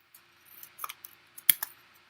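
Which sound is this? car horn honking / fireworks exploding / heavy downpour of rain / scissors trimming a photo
scissors trimming a photo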